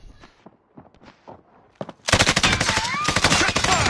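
Sustained rapid submachine gun fire in a video game bursts in loud and dense after a couple of seconds of quieter game sounds and brief voices, continuing without pause to the end.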